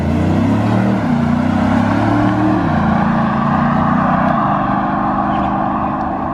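A 2017 Audi SQ7 diesel SUV accelerates hard, its engine note loud and steady throughout with the pitch rising and shifting as it pulls through the gears, heard from inside the cabin with no talk.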